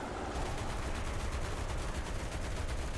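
Tank machine gun in War Thunder rattling in a rapid, continuous burst of shots, loud and close, with steady rhythmic fire and no talking over it.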